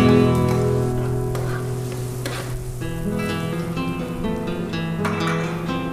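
Chopped onion sizzles steadily in butter and olive oil at the start of a risotto, a constant close frying hiss running beneath a sustained musical background.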